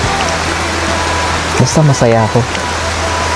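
Steady rain falls as a constant wash of noise while people talk briefly over it.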